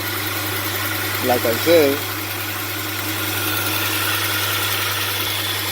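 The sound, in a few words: Hyundai Santa Fe engine idling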